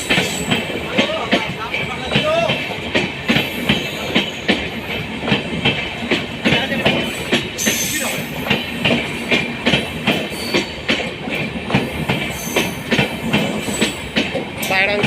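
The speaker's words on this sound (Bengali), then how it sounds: "নিউ ফারাক্কা জংশনের দুই নম্বর প্ল্যাটফর্মে প্রবেশ করছে কলকাতা এক্সপ্রেস" The Sairang–Kolkata Express with new LHB coaches rolls into platform two at New Farakka Junction, steady rhythmic clickety-clack of wheels over rail joints, loud and close throughout, with faint voices underneath.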